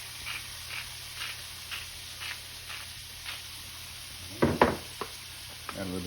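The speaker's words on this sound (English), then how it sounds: "get that garlic down into the butter" Minced garlic sizzles softly in melted butter for shrimp pasta: a low, steady fry broken by regular stirring swishes, then a few louder clanks and scrapes near the end, close by with no talking.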